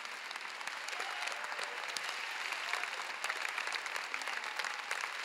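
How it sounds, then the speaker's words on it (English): A church congregation at a healing conference service in El Paso claps steadily for about five seconds, a dense, even wash of applause filling the room with no speech over it. "Come on, clap."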